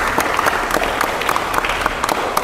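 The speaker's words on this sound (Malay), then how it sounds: "Tepuk tangan." A group at a campus program bursts into brisk hand clapping, a dense, even patter of many claps close by with only faint voices underneath.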